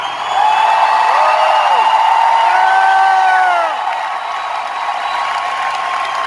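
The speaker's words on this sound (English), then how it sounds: "This is some record crowd." A large arena crowd at a political rally cheers and applauds loudly and continuously, with whoops and sustained shouting that rise and then ease slightly after a few seconds.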